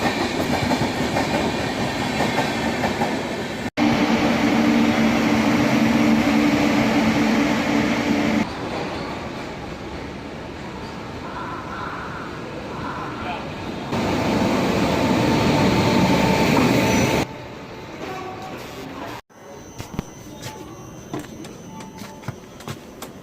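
A train at a railway station platform, with loud rumbling and rattling carriage noise that shifts in intensity across a long stretch, plus some clicking and quieter station ambience toward the end.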